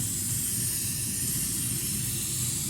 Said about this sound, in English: You can see spraying over the spray foam transition where we cut the drains out.